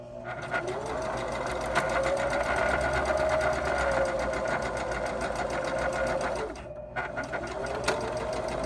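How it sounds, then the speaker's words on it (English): A sewing machine runs steadily as it stitches a seam, a close, continuous mechanical whir that dips briefly near the end before starting up again. "use that needle hand wheel to turn it down, and sew another seam"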